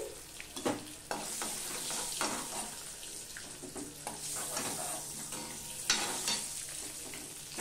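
Eggs frying in oil in a pan, part of a bitter gourd and egg dish, give a steady close sizzle with occasional stirring scrapes and clinks, with no voices.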